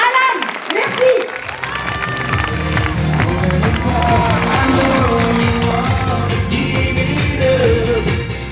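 A studio audience gives sustained, dense applause for a singer, steady throughout under music, with a voice speaking over it.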